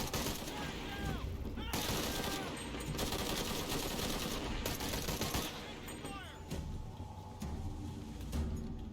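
Rifle gunfire in the video game Shadow of the Tomb Raider, repeated bursts of rapid shots spread across the clip amid loud in-game noise.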